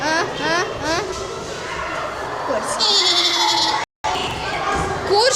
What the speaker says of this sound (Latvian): Kurš te ienesa kazu skolā?